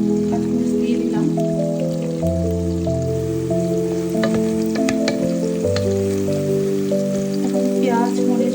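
Onions fry in a pan with bay leaf, dried red chili and garam masala for a meat bhuna, a steady sizzle and crackle running beneath prominent background music.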